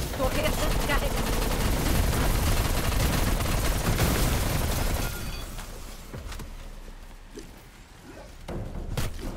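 A turret fires in Call of Duty Black Ops Cold War Zombies. Dense, loud rapid gunfire with impacts roars for about five seconds, then quieter scattered shots and bangs follow.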